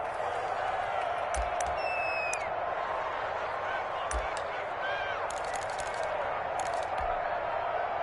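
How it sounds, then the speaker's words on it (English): Steady stadium crowd roar from a PS4 football video game, a continuous broadband wash of cheering with a few whistles and faint thumps, sustained evenly at moderate distance without clear speech. "The crowd getting into it as we come up on a big 3rd down."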